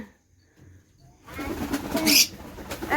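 After a near-silent start, a pigeon coos nearby amid rustling and a brief flutter, the soft throaty calls rising and falling.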